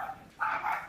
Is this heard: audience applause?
no